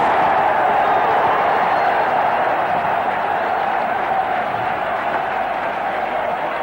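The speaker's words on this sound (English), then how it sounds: "Crowd loving it." A cricket crowd at a 1987 World Cup match between India and New Zealand applauding a six by Srikkanth, a loud, steady wash of clapping and cheering that fades slightly toward the end.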